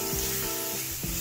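Kaala chana dosa batter sizzles steadily on a hot griddle, a close, continuous crackling hiss with faint clinks of a ladle, and no voices.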